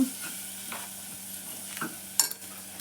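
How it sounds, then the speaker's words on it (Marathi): Sambar masala is stirred into a quietly frying mixture in a pan. A low sizzle carries a few spaced scraping strokes from the spoon, the last one sharper and clinking, with no talking. "सांबरचो मसाला घातल्यानंतर त्या ढवळून घ्यायचा"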